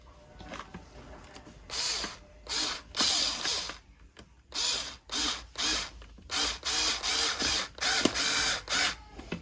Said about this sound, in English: So now we're just missing these two screws on the side. Let's do that.